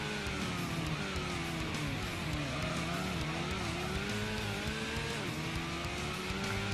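A race car in the PlayStation game Gran Turismo drones continuously with engine pitch rising and dipping through gear changes, a faint tire squeal possible amid the steady mechanical whine.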